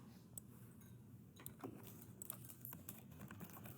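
Keystrokes tapped out on a computer keyboard, a quiet, steady patter of clicks with a few sharper presses, set against a faint hum.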